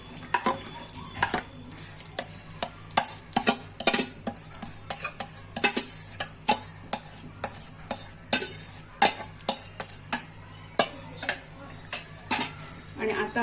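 A spoon stirs blended pav bhaji vegetables in a pan, giving repeated metal scraping and clinking strokes in a steady rhythm, close up, with a faint sizzle beneath.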